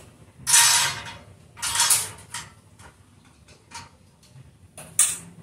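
A wrench tightens a metal wall-mounted clothesline bracket, giving several short rattling, creaking metallic bursts with brief pauses between them, close by and moderately loud, with no voices.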